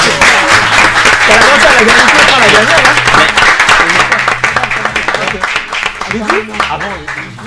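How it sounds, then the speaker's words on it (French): An audience applauds loudly while voices talk and cheer over it, the clapping thinning out toward the end. "Est-ce qu'on peut encore applaudir?"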